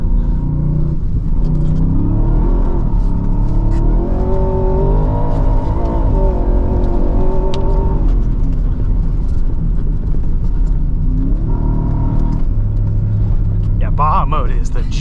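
A 2023 Ford F-150 Raptor R's V8 drives through snow, its deep engine rumble rising and falling through gear changes, loud and close, with people talking over it inside the cabin.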